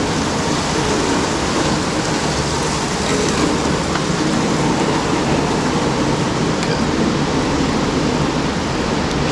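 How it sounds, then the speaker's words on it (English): Heavy rain pours steadily in a parking deck during a bike ride on an old hardtail, a dense, unbroken roar of water that stays loud and constant with no voices. "Rain pouring, man."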